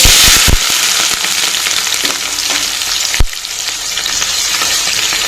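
Onions and green chillies fry in a pan for Telugu okra soup (bendakaya pulusu), giving a loud, steady hiss and crackle throughout, with a sharp clack near the three-second mark as the pan is stirred.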